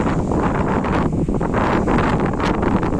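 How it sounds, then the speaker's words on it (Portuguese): Strong wind blowing on a white-sand beach at Laginha in December, a loud continuous buffeting roar with gusty rustling, battering the microphone without pause. "Ai, mas vento. O vento também é lindo."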